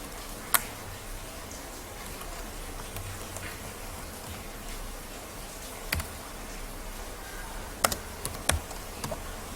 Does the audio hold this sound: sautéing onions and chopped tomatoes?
no